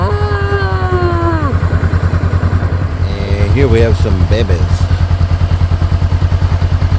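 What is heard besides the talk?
motorcycle riding on a road in Cambodia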